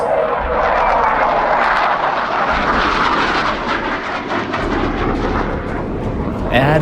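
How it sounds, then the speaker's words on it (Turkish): Loud, steady roar of a jet aircraft engine during an aerobatic display in the DCS flight simulator, a continuous broadband rush with a narrator speaking over it. "Uçak sadece motorun itiş gücüyle uçar."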